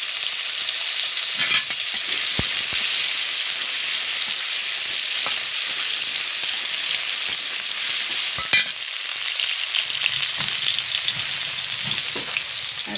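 Small potato pieces frying in a pan make a loud, unbroken sizzle up close, with occasional spatula scrapes and clicks as they are turned.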